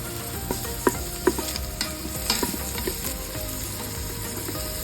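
Chopped onion sautéing in oil in an Instant Pot, a steady close sizzle with intermittent scrapes and clicks of a utensil stirring, no talking.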